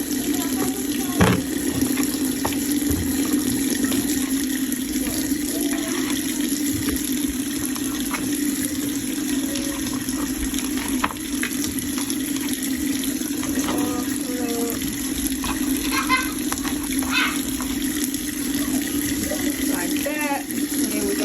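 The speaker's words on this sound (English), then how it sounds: "I'm gonna put the sweet potatoes in here so I can wash them off." Tap water runs steadily into a kitchen sink while sweet potatoes are washed, a continuous splashing hiss with brief knocks and clatters from handling, close by and alone.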